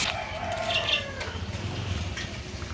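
Chickens, three-week-old free-range laying-hen chicks, clucking and calling in a coop, with a short crowing-like call early on over a low background hum.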